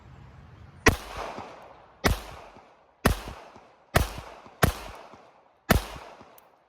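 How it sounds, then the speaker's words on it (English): Six sharp, loud gunshots from a Sig Sauer P238 pistol at a shooting range, spaced about a second apart, each with a short ringing decay and no talking. "Again, 6 shots, switch magazine and 6 more shots."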